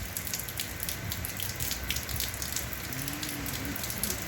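Steady rain falls outdoors as Hurricane Ida approaches, a constant soft hiss of drops with a faint low hum underneath, moderately quiet and continuous, with no voices.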